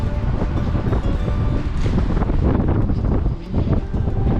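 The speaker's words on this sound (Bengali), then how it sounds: "হাওয়াটা পুরো ধাক্কা মারছে এসে।" Strong gusting wind on the Welsh coast near a beach promenade and pier, roaring and buffeting the microphone in loud, continuous rumbling bursts.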